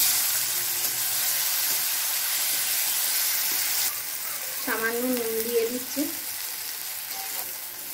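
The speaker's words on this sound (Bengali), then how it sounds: "টমেটোটা ভাজা হয়ে গেছে" Chopped tomato fries in oil with cumin and dried chilli, giving a steady close sizzle and crackle that softens partway through as someone speaks briefly over the pan.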